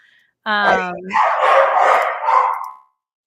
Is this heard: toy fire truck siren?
no